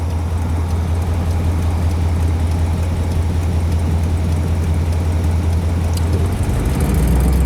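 A 1955 Ford Thunderbird engine runs smoothly at a steady idle, producing a loud, constant low rumble that holds without change and rises slightly near the end.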